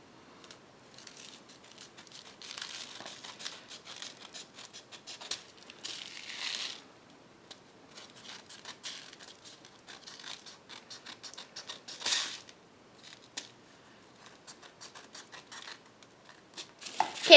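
Paper is trimmed for a handmade holiday shaker card, soft scattered cutting and crinkling sounds in short bursts with quiet gaps, close and fairly faint, no talking.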